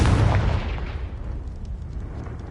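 An explosion from the Confringo spell in a video game, a loud close burst at the start that fades into a long rumbling decay.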